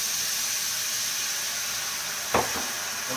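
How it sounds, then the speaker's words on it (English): Water poured into a hot pan of toasted rice for Mexican rice, a loud steady sizzle and hiss of steam throughout with a brief splash near the end. "We're going to put the water in."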